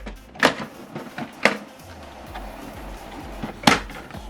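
Epson WorkForce 2960 DWF wireless printer being opened for ink cartridge replacement, giving a few sharp plastic clicks and clunks separated by quieter handling and mechanical shuffling, heard up close without talk.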